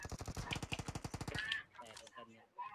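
Rapid automatic gunfire in the mobile shooter PUBG Mobile, a dense burst of evenly spaced shots lasting over a second, followed by quieter scattered game sounds.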